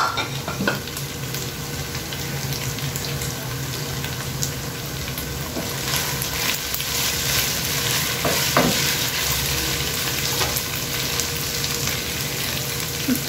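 Five tender juicy hot dogs, cut into small pieces, sizzle steadily in a hot pan for Filipino cheesy spaghetti, a loud continuous frying hiss with occasional stirring scrapes and no talking.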